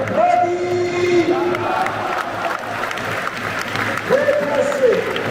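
Football stadium crowd during the Brest versus Rennes Breton derby applauds a substituted player leaving the pitch, a broad roar of clapping and cheering with shouted voices and chant-like calls over it, loud and continuous.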